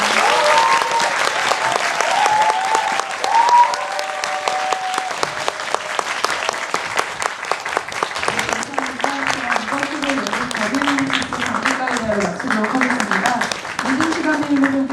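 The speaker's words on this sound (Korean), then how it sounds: "오늘 자리에 함께해 주신 배우 여러분께 다시 한번 큰 박수 부탁드리겠습니다" A theatre audience at a post-show talk for the play Kiss of the Spider Woman applauds the actors: dense, sustained clapping throughout, with voices and shouts rising over it in the second half.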